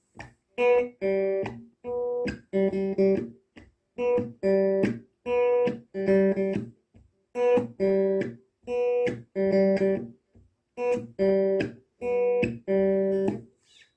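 A guitar picks out a higher melodic line in short, evenly spaced bursts of notes, clear and alone with no voices.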